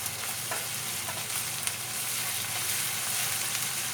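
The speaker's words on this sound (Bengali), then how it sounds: "রসুনটা একটু ভাজা ভাজা করে" Garlic paste fries in a pan over already-browned onion for Bengali-style mutton kosha, giving a steady, even sizzle that holds through the whole stretch with faint stirring ticks and no voices.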